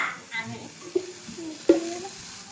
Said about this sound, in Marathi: ही असं फ्राय करून घेते